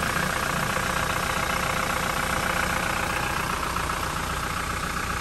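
A 2019 Conquest diesel engine idles with a steady, even clatter, close and continuous, with no talk over it.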